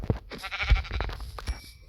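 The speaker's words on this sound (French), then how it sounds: "J'aurais jamais pensé tuer un mouton une fois à la pioche." Sheep bleating in Minecraft as it is hit and killed with a pickaxe, a close, loud bleat with short wavering cries and thuds, no talking over it.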